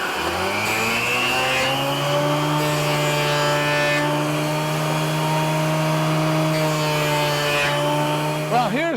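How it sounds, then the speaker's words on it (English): A wood lathe spins steadily with a strong, constant motor hum and whine while a turkey box call blank is turned, the tone holding even throughout before a brief wavering catch near the end. "I'll put it in the bottom of my lathe, and I'll do the other side as well."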